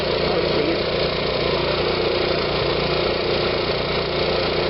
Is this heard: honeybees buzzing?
no